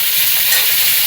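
Pointed gourd (potol) pieces frying in hot oil, giving a steady, close, full sizzle that runs unbroken throughout with no voices.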